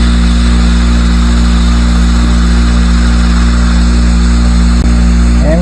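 A vacuum brake bleeder on a chopper motorcycle runs with its trigger pulled, a loud, constant air-driven hum with a steady pulsing drone, close and unbroken for the whole stretch.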